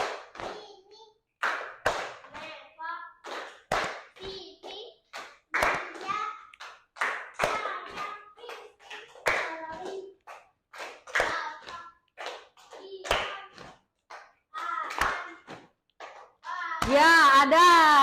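Children in an Indonesian classroom clap a teacher-led rhythmic concentration routine: sharp, patterned claps alternate with chanted young voices, and a louder burst of claps and shouts closes the sequence.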